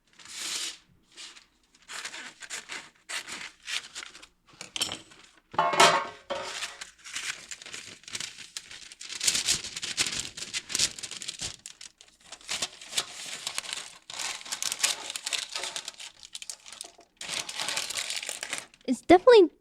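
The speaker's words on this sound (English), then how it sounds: "Here comes the parchment paper struggle." Parchment paper crinkles and crumples in bursts of sharp rustling as it is pressed into a cake loaf pan for a carrot loaf cake, with a person talking over and between the paper noises.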